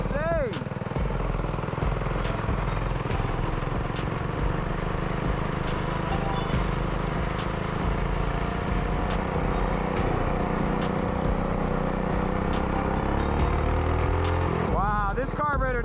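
Drift kart engine running hard on a new carburetor, a loud, continuous buzzing roar with revs rising and falling, close by for the whole stretch.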